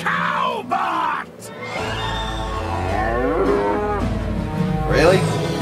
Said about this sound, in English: It's a cow. It's a Cowbot!